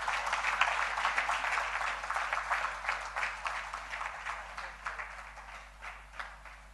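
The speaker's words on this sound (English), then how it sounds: "Give her another big round of applause." A round of applause at a household worker awards ceremony, fairly faint and distant clapping from an audience that swells early and slowly thins out.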